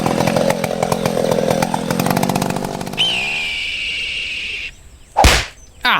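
Chainsaws cutting trees in a forest: loud buzzing saw engines revving and sputtering, then a high sustained whine, followed by a sharp whooshing crack, close and with no talk.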